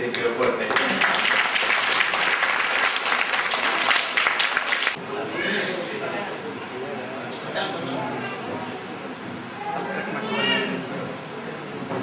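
Audience applause at a village felicitation ceremony for a Nadoja award, a dense steady clapping for about five seconds that then gives way to a murmuring crowd and voices talking.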